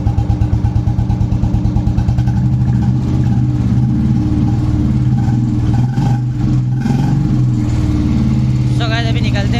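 A motorcycle engine runs steadily at idle with a throbbing low rumble, close and loud, its pulsing rhythm continuing throughout.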